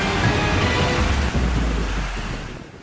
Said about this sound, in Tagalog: Pinadapa ng malalakas na hangin ang tolda sa palengking ito sa Sharif Agwak, Maguindanao del Sur kahapon